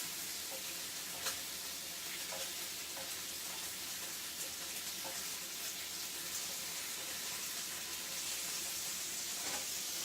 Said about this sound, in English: the sizzling is probably so loud you can't even hear me.